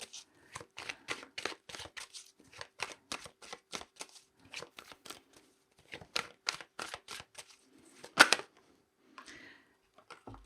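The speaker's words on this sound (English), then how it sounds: "I'm going to keep shuffling" Tarot cards being shuffled by hand in a quiet room, a run of quick crisp riffling flicks in irregular bursts with brief pauses, close and fairly soft, no talking.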